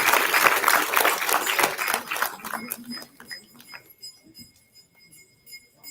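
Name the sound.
audience applause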